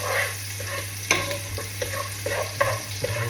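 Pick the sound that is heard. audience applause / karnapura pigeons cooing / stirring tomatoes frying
stirring tomatoes frying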